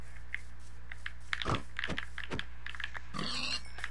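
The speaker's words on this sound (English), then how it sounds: "Here's the little pig." A pig in the Minecraft video game giving several short grunting oinks, interleaved with quiet keyboard clicks and tapping over a low steady hum, fairly faint overall.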